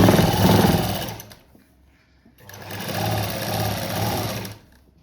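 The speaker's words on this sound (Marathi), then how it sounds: "पहिल्यांदा असं पाव इंच शिवून घ्यायचं चौबाजूनी" A sewing machine stitches a quarter-inch seam around a cut-work blouse neckline in two loud, rapid bursts of close mechanical whirring separated by a brief pause.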